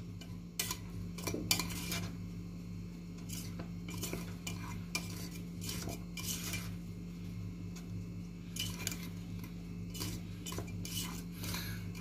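A utensil scrapes and knocks against a pot while thick Turkish delight with mandarin and walnut is stirred, producing irregular close clinks over a steady low hum.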